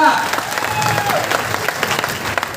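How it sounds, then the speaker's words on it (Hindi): Seminar audience in Agra claps loudly for a participant, a dense burst of applause with some crowd murmur and a voice underneath, easing slightly toward the end. "शानदार तालियां"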